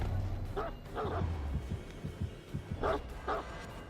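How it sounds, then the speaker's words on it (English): Yips, whimpers and short barks from the killer's dog in a video game, a series of close, moderately loud bursts spread over a few seconds with no speech. "Dog has unique sounds for falling as well"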